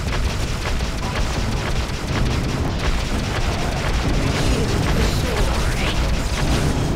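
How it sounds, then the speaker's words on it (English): Explosion in the space combat game Freelancer during a ship battle, a dense, continuous roaring boom filling the whole clip with rumbling debris-like texture, loud and unbroken, with no talk over it. "I like how my game actually lagged at that explosion animation."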